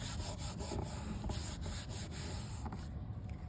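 Card front being rubbed firmly by hand onto black cardstock, a steady close scratchy friction with dense broadband texture and no talking.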